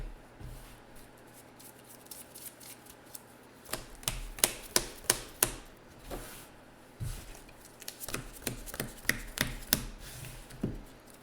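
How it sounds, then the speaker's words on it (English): Legend Deckbuilder game cards being shuffled up close: bursts of crisp riffling and flicking that come in clusters with short pauses between. "let's go ahead and get everything shuffled up"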